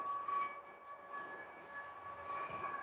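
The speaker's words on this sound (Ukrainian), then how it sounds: "Знову повітряна тривога." An air raid siren wails across Odesa in a steady, sustained tone, faint and distant over a low background hum, with no voices.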